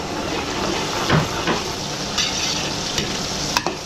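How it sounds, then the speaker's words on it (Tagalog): Garlic and onion sauté in a hot pan with a constant bright sizzle and hiss, broken by occasional soft scrapes and taps of a spatula, close and steady throughout. "gigisa na natin yung minuto. Bawang sibuyas."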